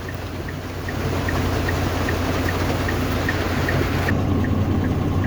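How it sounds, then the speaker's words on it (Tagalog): Rain falling outdoors makes a continuous, even hiss that swells slightly after the first second and then holds steady, with no voices. "Konti ang ulan."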